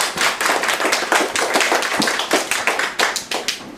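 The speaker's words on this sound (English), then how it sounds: "So y'all give Mr. Tony a big hand clap." Audience at a group lesson in a music studio clapping for a guest, a lively burst of many close, crisp hand claps with uneven rhythm.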